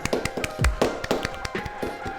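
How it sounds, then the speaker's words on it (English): A small group claps together in a quick, loose patter of hand claps, fairly close and moderately loud, with no talking over it. "Let's clap, but we'll do the Stalin thing where we clap for ourselves because we are the people."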